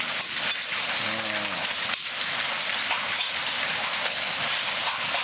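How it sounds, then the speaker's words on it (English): Dense, steady patter of ice rain in spring in Japan hitting surfaces, a constant crackling hiss with no pauses, close and fairly loud. "But it's raining with ice."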